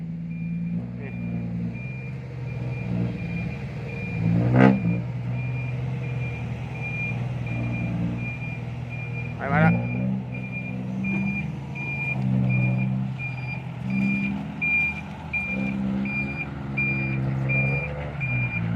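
Dump trucks drive and reverse at a slippery earth pit for four-lane road work, with a steady reversing beep repeating over deep engine rumble, a couple of sharp air-brake hisses, and people talking in the background.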